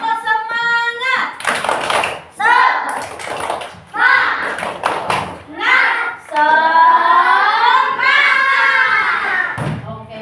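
A class of schoolchildren does the tepuk semangat clapping chant, with sharp patterned claps and thumps alternating with the children's loud sung chanting and the teacher's voice, close and lively.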